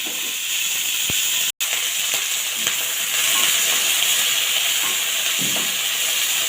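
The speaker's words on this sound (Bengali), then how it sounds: "এখন এর মধ্যে টমেটো, ক্যাপসিকাম, পেঁয়াজগুলো রোস্ট করে নেব।" Tomato, capsicum and onion fry in a little oil in a wok, giving a steady, loud hissing sizzle throughout, with a few faint clicks and a brief dropout.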